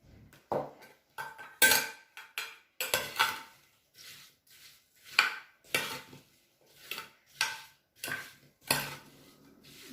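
Sliced apples tossed with cinnamon and spices in a bowl, producing irregular bursts of clinks and scraping knocks from a utensil against the bowl, close and fairly loud.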